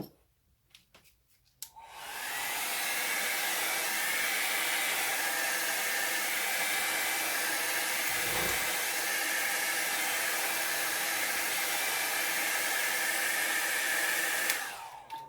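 A hair dryer drying an alcohol ink painting switches on after a short quiet moment, blows with a steady loud whooshing roar for about twelve seconds, then cuts off.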